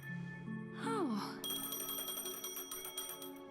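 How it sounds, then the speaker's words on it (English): A phone rings in the Honkai Star Rail video game, a thin electronic chime repeating in rapid pulses after a short rising musical tone, fairly faint and with no voices over it. "That's the most shitty ring of a phone I have ever heard."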